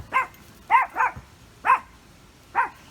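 Dogo Argentino puppy barking in a home, five short sharp barks spaced irregularly, close and fairly loud against a quiet room.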